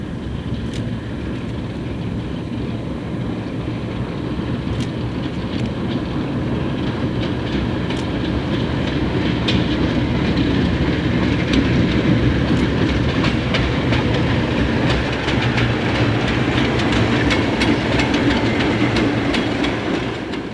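A Baldwin steam locomotive working on the Trona Railway in the Mojave Desert near Trona, California, rolls past with a steady, loud rumble and rhythmic clickety-clack of rail wagons throughout, with no voices.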